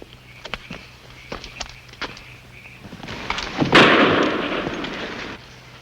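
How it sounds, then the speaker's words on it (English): A single pistol shot in an old-time Western radio drama bursts out sharp and loud about two-thirds of the way through, trailing off in a rough decay after a few quiet taps and shuffles. "Pistol shot."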